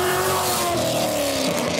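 A truck fitted with Texas Speed 1 7/8 long tube headers, a Texas Speed 3-inch X-pipe and a 3-inch Borla Attack catback exhaust roars loudly up close, its engine note sliding down in pitch as it revs.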